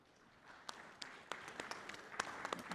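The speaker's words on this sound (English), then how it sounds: "Please do give them a round of applause." At a hospitality industry conference panel, a room of attendees begins to applaud, sparse individual claps building gradually from faint to a thin, scattered round of clapping, fairly quiet and with no speech.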